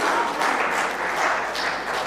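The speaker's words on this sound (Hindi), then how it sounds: "जोरदार तालियां इन बच्चों के लिए बजाइए।" Audience applause at a Hindi comedy poetry gathering (hasya kavi sammelan), a dense, steady clapping that holds loud and even throughout without any talk.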